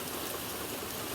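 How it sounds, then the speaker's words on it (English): Heavy rain pours down outside near a front porch, a dense, steady hiss of drops hitting surfaces, loud and continuous without talking. "It's really starting to rain out here, but luckily it's not getting in."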